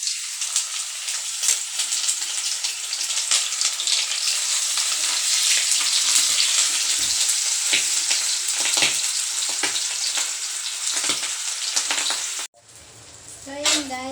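Milkfish (bangus) steak sizzles steadily in hot cooking oil, a dense continuous frying hiss with crackles throughout, close and loud, cutting off near the end into a brief quieter stretch.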